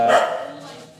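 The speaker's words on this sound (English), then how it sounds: "excuse the dogs in the background" Dogs bark in the background of a brewery and bottleshop co-owner's interview, a short loud burst near the start that fades, with someone talking over it.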